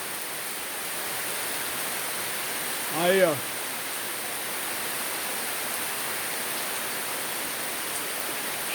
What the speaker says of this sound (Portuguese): Olha a chuva comendo solto.